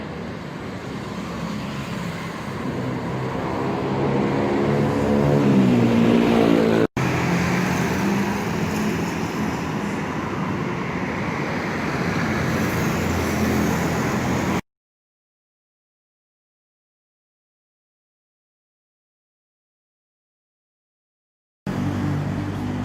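Continuous road traffic on a street in Thailand gives a dense roar of passing vehicles that swells as one draws close. It cuts abruptly to silence and returns briefly at the end, with no talking.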